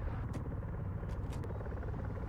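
A helicopter in ARMA 3 gives a continuous low rotor rumble with a steady throbbing texture, moderately loud and unbroken, with a few faint clicks on top and no talk.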